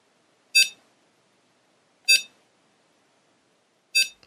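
Three short, clean electronic beeps sound alone against silence, evenly spaced about one and a half seconds apart, from a homemade x86 Pong game running as a BIOS extension.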